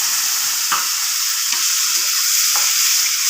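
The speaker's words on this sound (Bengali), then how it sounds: "এরপর আমি মশলা ধোয়া জলটা একটু দিয়ে দেবো এর মধ্যে।" Spice-washing water poured into frying masala for a katla fish curry hisses in a steady, loud sizzle, with a few soft scrapes of stirring heard over it.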